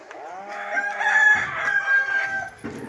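A native village rooster crows once in a loud, drawn-out call, alone and close, with a short clucking tail at the end.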